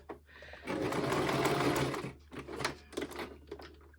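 A sewing machine stitches through a paper tag in one sustained, fast whirring run of nearly a second and a half, followed by several short bursts and clicks as the stitching is adjusted, close and clear.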